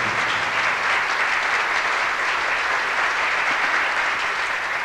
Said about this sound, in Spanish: quiero pedir un caluroso aplauso ahora para Daniel, el Chino Calderón